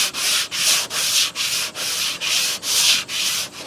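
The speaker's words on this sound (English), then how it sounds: "grab the sanding block, sand off some of this primer here" A sanding block rubs primer off the quarter panel of a Chrysler Crossfire in a repair job, eight even back-and-forth strokes in a steady rhythm, loud and close with no talking.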